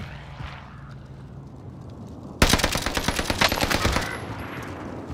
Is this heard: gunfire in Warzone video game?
yes